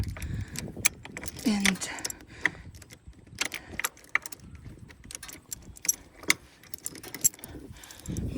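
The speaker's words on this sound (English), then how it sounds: "So I'm going to remove the chain into this tow bar" Metal chain rattles and clinks as it is removed and handled at the tow bar of a travelling irrigator outdoors, with scattered close jangling bursts and a brief spoken word.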